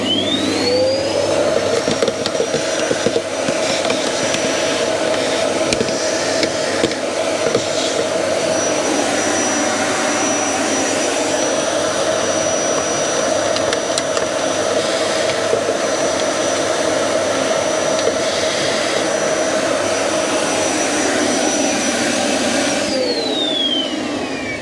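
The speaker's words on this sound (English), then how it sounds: "I'm just going to use a vacuum cleaner, see if I can clean out some of this debris in here" A vacuum cleaner drones steadily and loudly with a high whine while sucking debris out of the engine airbox of a 2014 Ford Focus 1.6 diesel. The hum stays unbroken from start to finish, then eases at the end.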